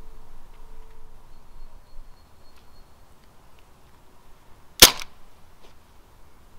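A single sharp pistol shot cracks out once during a duel, loud and abrupt, against a quiet low background hum.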